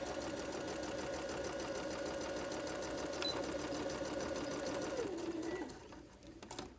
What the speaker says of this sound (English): so I'm only going to sew up to here.